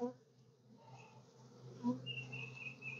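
Honey bees buzz softly around an open hive during an inspection, a faint steady hum that sits under a person talking nearby.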